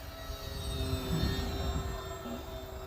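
Arrows RC Bearcat model airplane with a two-blade propeller flying overhead, a steady whining engine drone that swells slightly mid-pass over outdoor background noise.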